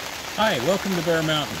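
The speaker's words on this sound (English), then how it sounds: "you can hear the rain hitting the hoop house in the background" Rain drums on a farm hoop house as a steady, dense patter, heard under a brief spoken greeting.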